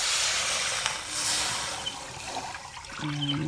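Water runs steadily and fairly loudly from a tap in a kitchen setting, a continuous hissing splash that softens briefly, with a faint hum near the end.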